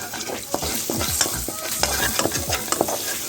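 A spoon stirs pimento seeds and a bay leaf in a hot pot for Caribbean curry conch, giving close scraping strokes and light clinks over a soft sizzle, with no talking.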